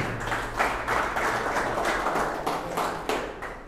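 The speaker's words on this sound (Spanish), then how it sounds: "Fuerte el aplauso, por favor." A crowd at an agency inauguration in Cobán claps steadily, the applause pulsing in waves for several seconds before thinning out near the end.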